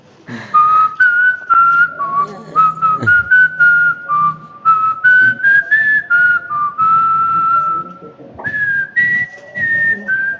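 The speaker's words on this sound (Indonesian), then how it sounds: "Lomba bersiul aja." Sustained human whistling of a wandering tune, loud and close, with short breaks between phrases and no talk over it.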